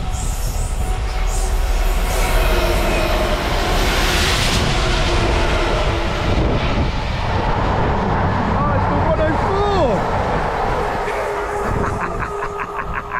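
Rail treatment train passing on a line from Bletchley to Peak Forest, a loud continuous rumble of wheels on track with metallic squeals and whines, a hiss swelling early on and fast rhythmic clatter near the end.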